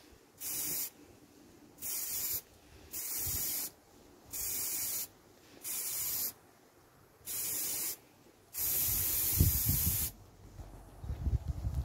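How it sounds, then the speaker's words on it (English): A spray paint can sprays a Star Wars Legion AT-ST model in seven bursts: six short, regular hisses with pauses between them, then a longer final spray, all close and loud with no talking. "And start spraying."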